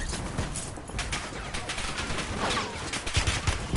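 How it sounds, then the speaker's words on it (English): Rapid gunfire from Call of Duty Black Ops 6 Warzone resurgence, dense and continuous with bursts layered over one another, loud and sustained across the whole stretch with heavier booms near the end. "Shooting at me, bro."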